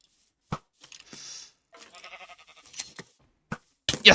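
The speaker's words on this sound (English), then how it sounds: "Okay, we found a sheep." A Minecraft sheep gives a short, wavering bleat between scattered clicks and soft game sounds, close and moderately loud in an otherwise quiet scene.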